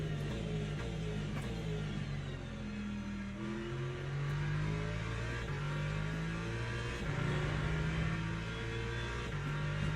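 A race car engine in the Le Mans Ultimate racing game drones and revs continuously, its pitch climbing and dropping through gear changes, with other cars audible nearby and no talk.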